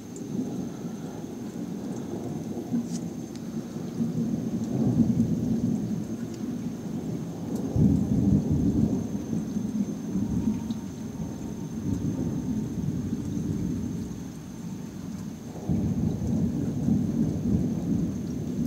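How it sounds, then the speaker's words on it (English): Steady rain pours through a thunderstorm while deep rolls of thunder swell and fade several times, the rumbles low and heavy under a constant hiss of rainfall, with no one speaking. "Storming."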